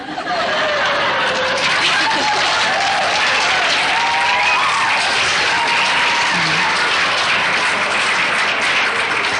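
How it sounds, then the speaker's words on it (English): A large audience at a talk applauds steadily for the whole stretch, a thick continuous wash of clapping with scattered chuckles and murmurs mixed in. "there are a lot of men applauding"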